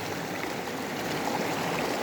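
A river flows along a trail, making a steady, soft wash of running water with no voices over it.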